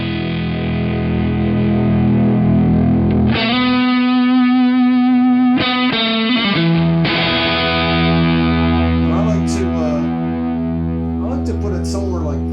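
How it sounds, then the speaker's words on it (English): An electric guitar plays through a Pigtronix Philosopher's Tone compressor pedal, moving from clean sustained chords to a fully compressed, sustained tone, with steady ringing notes and a brief pause midway. "I'm starting to switch from the clean, non-pedal sound to the fully compressed sound."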